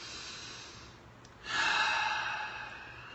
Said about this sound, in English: Take a big deep breath right now.